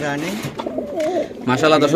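Pigeons, white Lakka fantails with squabs, coo in low, rolling phrases close by in a cage, with a voice briefly overlapping at moments.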